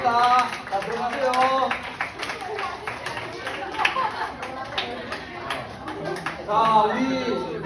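Applause for students at a middle-school church youth service, brisk hand clapping from a group mixed with lively chatter and voices.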